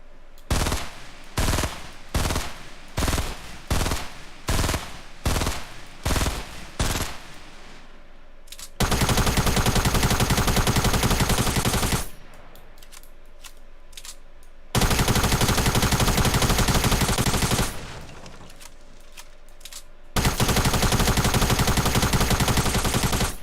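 Minigun fire in a video game: a series of short rhythmic bursts, then long continuous roaring streams of rapid fire, loud and close, stopping and restarting three times.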